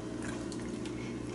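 Water, about 1.5 litres, pouring into a pot for pozole with pork spine and chicken: a short, steady, close splashing fill with no talk.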